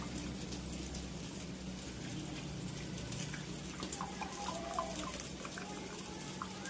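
Water poured over shrimp in a kitchen bowl, a steady close splashing and trickling flow that thins into lighter drips toward the end.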